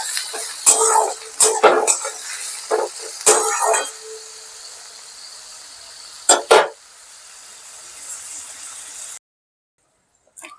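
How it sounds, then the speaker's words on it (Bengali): Potatoes frying in a pan for chire pulao: sharp clanks and scrapes of a spoon against the pan over a light sizzle, fading to a quiet hiss and then near silence at the end. "এবার আমি আলুগুলো এর সাথে দিয়ে ভালো করে আলুগুলোকে লাল লাল করে ভেজে নেব।"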